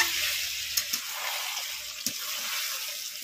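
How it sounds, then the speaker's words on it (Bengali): Desi laying-hen chicken sizzles steadily in plenty of released oil as it is slow-fried and stirred in a pan, a constant close crackle with a few soft clinks of a spoon. "এখন একটু সময় নিয়ে ভালো করে কষিয়ে নেব।"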